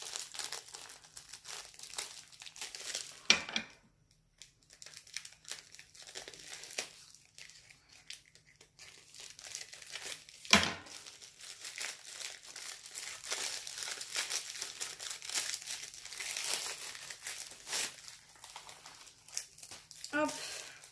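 Plastic packaging of a diamond painting kit crinkles and crackles as someone struggles to open it with their fingers, in bursts of close rustling with a few sharp tearing snaps and some talking over it.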